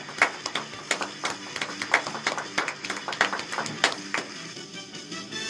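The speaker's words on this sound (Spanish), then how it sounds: "les vamos a dar un fuerte aplauso con su fanfarria correspondiente" Small audience clapping on a Spanish-language radio program, the claps fairly sparse and uneven, individual hand strikes distinct and close, continuing steadily for several seconds.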